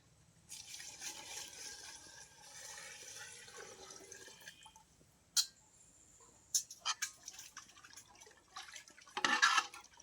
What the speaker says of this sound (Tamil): இப்போ தண்ணி ஊற்றிக்கலாம்.